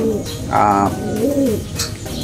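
Racing pigeons back home in their loft after a hard race from Aparri, Cagayan, cooing in loud, close, rolling calls, a couple of distinct phrases over steady background noise.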